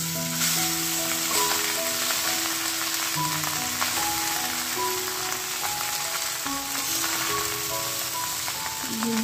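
Cooked rice stir-fried in a pan with bay leaf, giving a steady close sizzle with soft scraping and stirring all the way through. A faint musical tone sits in the background and no one speaks.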